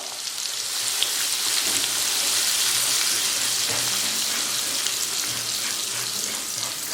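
A ground masala paste, added after asafoetida, fries in hot oil while being stirred, producing a dense, steady hissing sizzle up close with small spits and no speech.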